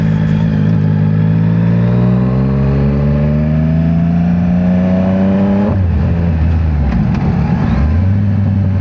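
A motorcycle engine pulls hard through the gears up close, its pitch climbing steadily then dropping sharply at each upshift before rising again, loud and continuous with no talking.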